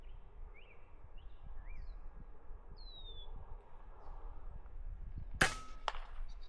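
A single sharp gunshot cracks during a squirrel hunt in woods, loud against a faint background of birdsong and rustling.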